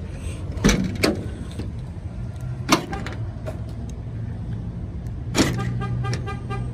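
The back door of a work van fitted with a deadbolt and alarm system being opened: a few sharp metallic clunks and latch clicks over a low background hum, close by.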